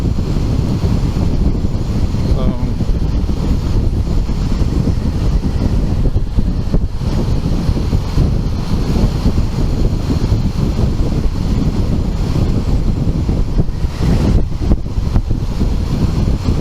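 Strong wind roars steadily into the microphone while riding a Honda Goldwing motorcycle on the open road, a loud, continuous low buffeting rumble with no talk.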